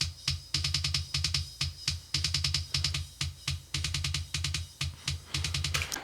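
Kick drum with a 5 kHz EQ boost, its bright beater click riding on the low thump, struck in quick repeated groove patterns, close and alone.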